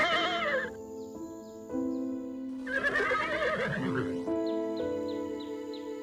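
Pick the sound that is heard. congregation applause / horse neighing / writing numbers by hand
horse neighing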